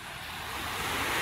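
Ocean surf roars in a steady, rushing wash that swells slightly louder toward the end, with wind buffeting the microphone.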